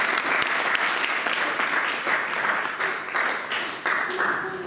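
A church congregation applauds and cheers for the Lord, dense continuous clapping from many hands with crowd voices mixed underneath.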